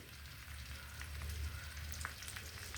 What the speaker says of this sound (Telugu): జాగ్రత్తగా వేగించుకోవాలి వీటిని